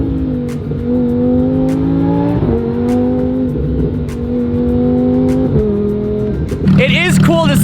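A Lamborghini and a superbike accelerate up a canyon hill, engine revs climbing in repeated rising sweeps with gear changes and a final burst of acceleration, heard close and loud while someone talks over them.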